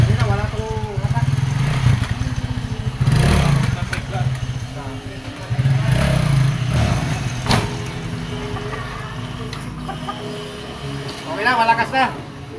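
A Rusi TC-125 motorcycle with a fresh clutch lining runs nearby, its engine droning steadily with a few throttle swells, while voices speak briefly over it near the end.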